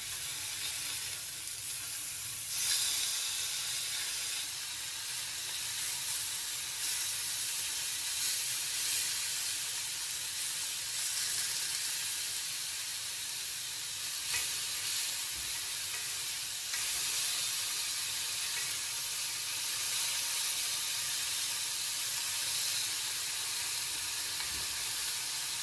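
Oyster mushrooms frying in a pan give a steady, close sizzle and hiss that runs continuously throughout, with brief stirring shifts and no voices.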